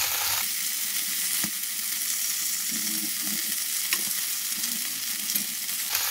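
Browned rabbit pieces in a pot give off a loud, steady sizzle and crackle, with occasional clinks and scrapes of stirring at close range.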